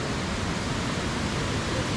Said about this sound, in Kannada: ಬಾಟಮ್ನಲ್ಲಿ ಹೇಗೆ ನೀರು ಬೀಳ್ತಿದೆ ಅಂತ ತೋರಿಸ್ತೀನಿ ನೋಡಿ.